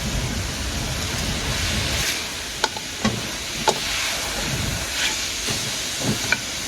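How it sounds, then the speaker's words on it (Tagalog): Food sautéing in a hot pan, a steady close sizzle and hiss with a few sharp clicks and taps of a utensil against the pan, no voices. "ito na yung ginagisa natin"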